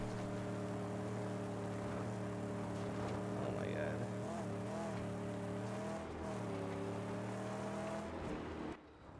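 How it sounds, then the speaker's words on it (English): A car's engine in the Mad Max video game races with a sustained humming drone that shifts pitch as it revs, steady and fairly quiet, cutting off near the end. "the cars like to go fast in this game"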